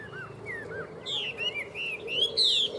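A Chinese hwamei songbird singing: loud, varied whistled phrases and rapid trills close by, building in intensity toward the end with no talking.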